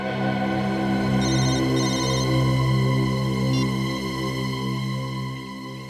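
A telephone rings with short, repeated electronic trills over a steady, droning musical background from a TV drama.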